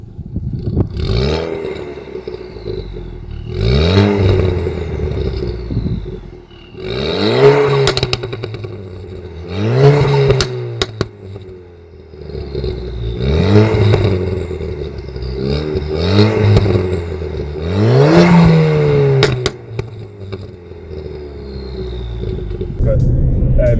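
A stage 2 Ford Fiesta ST revs repeatedly to around 3,000-4,000 rpm, each rise followed by crackling exhaust pops and bangs in a rhythmic series of about eight bursts, with someone talking between them.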